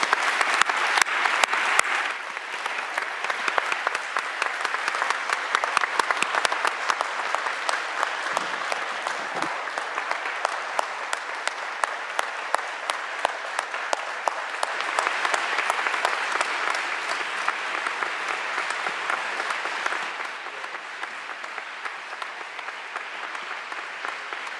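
A large audience gives a long, sustained round of applause as a farewell at a COP26 climate session, dense clapping running steadily for about twenty-five seconds and easing slightly near the end.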